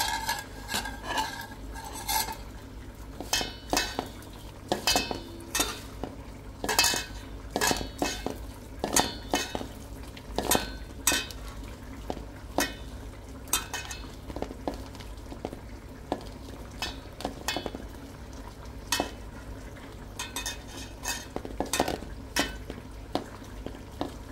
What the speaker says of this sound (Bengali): এটার সাথে হলো আমি দিয়ে দিব পেঁয়াজ কুচি